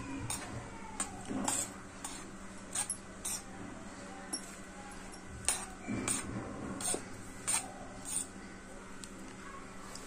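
A spoon clinks and scrapes against a bowl while turmeric and salt are mixed into maida flour for chakli dough, giving a run of sharp, close, irregular taps over a quiet background.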